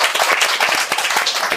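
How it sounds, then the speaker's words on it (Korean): A small studio audience at a Korean talk-show interview claps briefly, producing a short burst of brisk, closely spaced handclaps. "박수."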